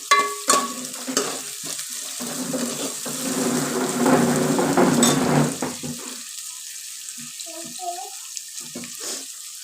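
Banana pieces fry in hot oil with a steady close sizzle while being stirred with scraping and clinking, and the bubbling fades toward quiet near the end.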